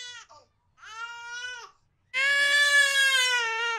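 An infant cries in short wails, first a few brief thin sobs and then a longer, louder sustained howl close by, with no other talking.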